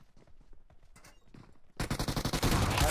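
Quiet shuffling and clicks, then a loud burst of rapid repeated gunshots in a fast rhythm, close and sharp, typical of game gunfire in PUBG Mobile.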